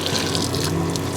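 Hot water runs steadily from a tap, a continuous close, loud rushing splash with no pauses.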